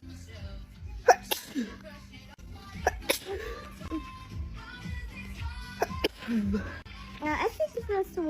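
A woman sneezes sharply several times at close range amid chatter and a voice, the bursts scattered among light background talk.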